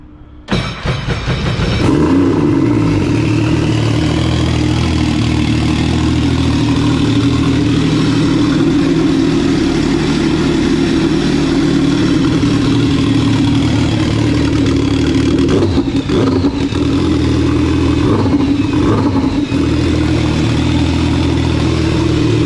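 A Yamaha VXR jet ski engine starts and runs loudly in a shop, holding a rough steady drone with a couple of brief revs later on, close and without talk.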